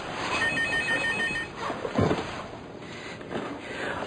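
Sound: telephone ringing

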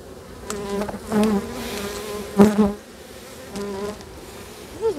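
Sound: honey bees buzzing during hive inspection

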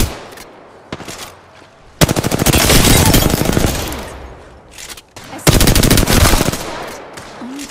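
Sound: gunfire from a video game, Apex Legends

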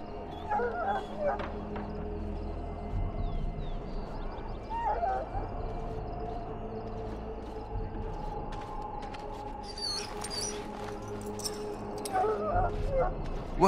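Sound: sick hound barking and whimpering in the video game Dragon Age Origins

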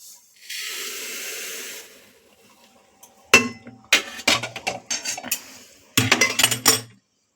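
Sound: dal being transferred into a pressure cooker, pot clinking

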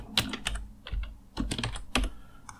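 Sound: typing on a computer keyboard

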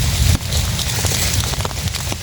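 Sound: rain falling in the forest

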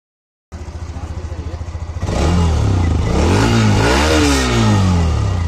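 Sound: Honda Xtreme motorcycle engine running

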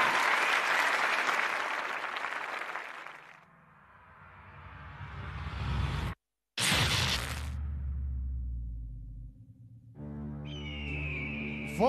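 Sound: audience applause for fighter entrance

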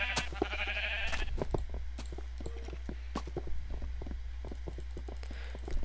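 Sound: sheep bleating in Minecraft video game

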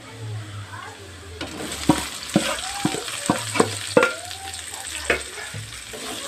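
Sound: onions frying in mustard oil

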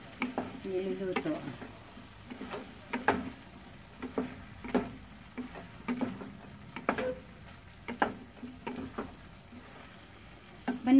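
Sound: sautéing squash and eggplant in a pan

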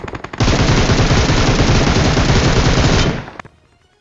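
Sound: gunfire in video game BGMI

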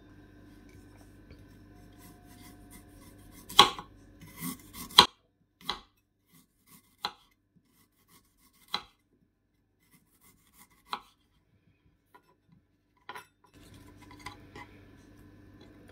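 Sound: knife cutting ginger into thin slices

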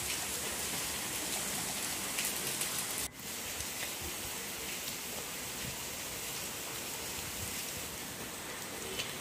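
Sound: rain falling

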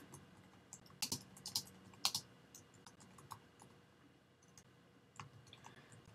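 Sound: typing an HTML phrase on a computer keyboard

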